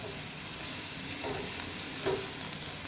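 Garlic ginger paste fries in a pan with a steady, fairly faint sizzle, broken by a couple of soft stirring scrapes.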